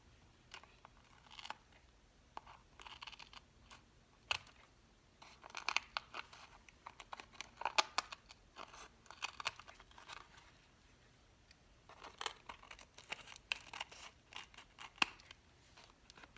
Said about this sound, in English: I'm going to cut the edges off.